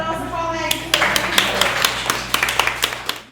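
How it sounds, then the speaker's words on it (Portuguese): A small class of adult education students claps for a classmate, with a few distinct, scattered claps that start about a second in over a steady hum. A voice speaks at the very beginning. "Palmas para o nosso colega."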